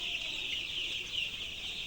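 Eight-day-old chickens crowded together in a poultry shed, a flock troubled by birds pecking one another, keep up a dense, steady chorus of high chirping and clucking that runs unbroken and fairly close throughout.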